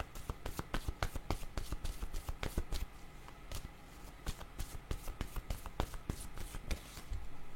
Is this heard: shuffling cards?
yes